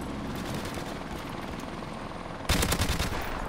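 Automatic gunfire from a DLC gun in the first-person shooter Modern Warfare Remastered, a steady dense rattle of rapid shots with a sharper, louder burst near the end.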